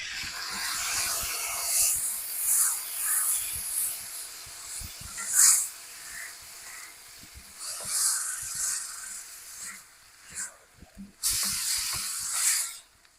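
Crushed and diced tomatoes hitting a hot pan for shakshuka, giving bursts of bright hissing sizzle that swell and fade, with soft clatter of stirring between the bursts.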